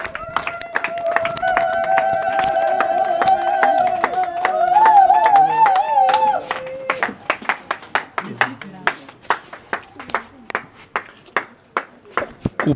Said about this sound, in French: Applaudissez quand même hein.